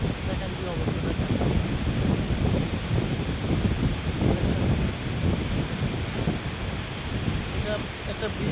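Steady roar of a rough sea driven by strong wind, with wind buffeting the microphone continuously at close range and fairly even loudness throughout.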